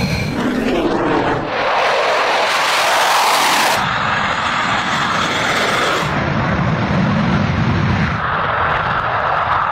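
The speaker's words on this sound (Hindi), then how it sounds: "रफाल ने टेक ऑफ किया पहले।" Rafale fighter jets taking off one after another at night, a loud, continuous roar of jet engines that swells and shifts, with rumbling low end throughout and no talk.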